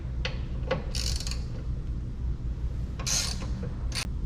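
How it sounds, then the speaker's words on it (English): Ratchet wrench backing out a Torx T40 bolt beside the rear tow hook of a 2024 Ford F-150 Raptor, with a few short bursts of quick clicking spaced across the clip over a low steady hum. "So I'm going to go ahead and take out this bolt. And it's a Torx T40."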